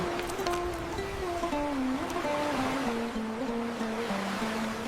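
Ocean waves and surf wash in a steady broadband roar, with a low tonal hum drifting underneath, continuous and moderately loud.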